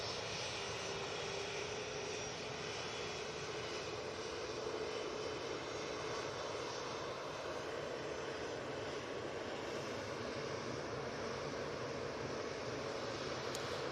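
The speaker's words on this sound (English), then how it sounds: "this is the EasyJet off to Palma" EasyJet airliner departing Manchester Airport for Palma, a steady, distant jet engine roar holding evenly throughout with no voices over it.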